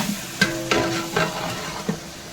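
Mint paste frying and being stirred in a pan, a steady sizzle broken by several sharp scraping stir strokes at an even rhythm, close and loud with no voices.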